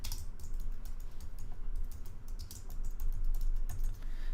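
Keys clatter on a computer keyboard in quick, irregular bursts of clicks, close and quiet, with no one talking.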